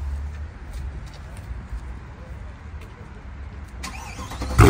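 A car engine runs with a low rumble that rises sharply into a loud rev near the end, heard close by.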